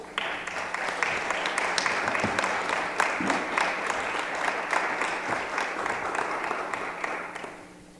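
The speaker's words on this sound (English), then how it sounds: "Big round of applause." Audience applause at a Mother's Day spiritual community gathering welcomes speakers to the stage, a full, sustained round of clapping that carries on evenly before thinning out at the very end.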